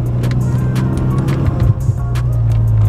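A JDM car, warmed up to temperature, cruises steadily around a loop, its engine a constant low drone with road rumble and a few brief ticks, close and continuous with no talking.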